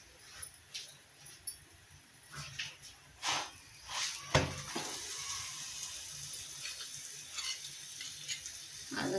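A chapati roasts on a pan with a little oil, giving a soft, steady sizzle with a few louder scrapes and taps of turning, no talk over it.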